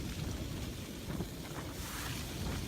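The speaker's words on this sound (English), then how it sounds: "there's that much wind noise off the basher that I don't think I'll hear much" Steady, heavy wind noise roars across the microphone at the Winter Hill trig point in Lancashire, a constant low rumbling blast with no voices.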